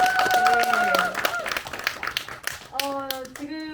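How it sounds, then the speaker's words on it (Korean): Audience clapping at a public concert-style lecture in a traditional head-family house, scattered clapping under and between voices, with a child-like voice and speech heard over it. "여러분 다시 한번 감사의 박수 부탁드리겠습니다."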